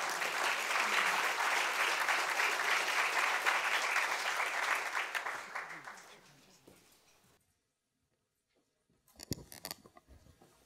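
An audience applauds steadily and fairly close for about six seconds to welcome a speaker at a formal talk, then fades into silence before faint shuffling sounds.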